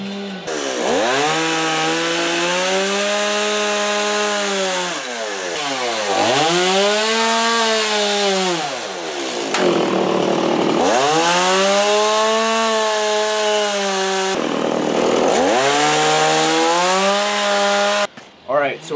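A chainsaw roars continuously close by, its pitch dipping and climbing repeatedly as it bites into wood while carving an eagle, and revs back up.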